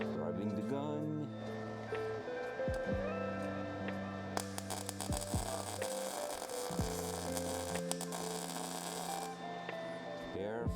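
A welding gun lays a tack weld, giving a crackling, sizzling buzz that runs for about five seconds over a steady electrical hum, with someone talking before and after.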